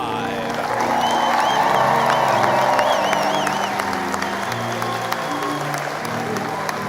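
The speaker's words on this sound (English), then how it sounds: "join me in an enthusiastic round of applause as we welcome the Kansas City Art Institute graduating class of 2025" A large crowd at the Kansas City Art Institute commencement ceremony for the class of 2025 applauds and cheers continuously, with a dense steady wash of clapping, scattered whoops and voices throughout.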